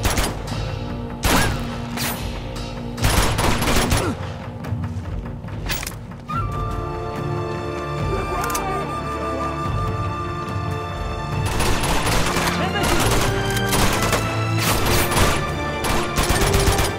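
Gunfire in the video game Uncharted 2, bursts of rapid automatic shots and thumping impacts over a sieged firefight, with gaps of quieter ambience and music between volleys.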